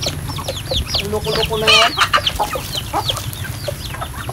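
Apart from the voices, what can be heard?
chickens clucking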